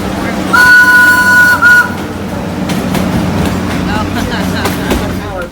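Train rolling along tracks at Animal Kingdom near Harambe Market, a steady rumbling clatter with a short whistle-like tone early on, mixed with background crowd noise.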